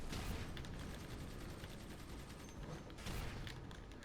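Munitions weapons fire in DC Universe Online, with flak cannon, chain gun, multi-net and mini nuke blasts blending into a dense, continuous barrage of rapid shots and booms that runs without a break, with no voices.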